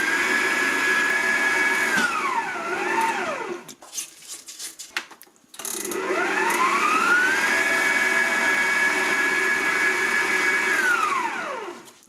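A Moulinex stand mixer whirs at speed 3 while mixing yogurt cake batter with egg whites, a loud steady motor whine that dips in pitch, stops with some clatter, then spins up and runs again.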